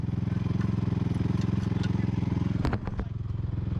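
Motorcycle engines idle nearby with a steady, throbbing low rumble, broken near the end by a burst of clattering and scraping.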